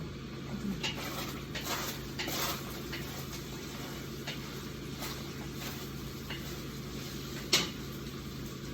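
Cooking at home, with a faint background sizzle of frying and scattered light clinks and taps of utensils against pots, some brief knocks, all fairly quiet and with no talking.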